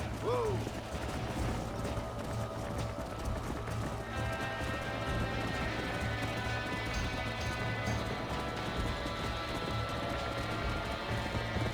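Hooves gallop in a steady clip-clop rhythm in Red Dead Redemption, close and continuous, a horse snorting briefly at the start while mechanical game sounds and music sit underneath.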